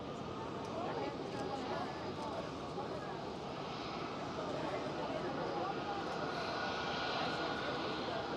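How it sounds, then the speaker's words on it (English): An Airbus A321neo jet arrives at Amsterdam Schiphol with a steady, fairly distant engine roar, broad and even across the whole stretch. "And right here is another A321 Neo."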